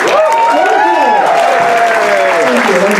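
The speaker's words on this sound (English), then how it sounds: "We have a round of applause for them" Audience at an anniversary gala applauding, a dense, loud, sustained clapping with cheering and whoops layered over it.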